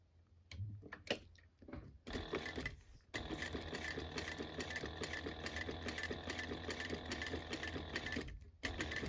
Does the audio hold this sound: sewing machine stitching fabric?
yes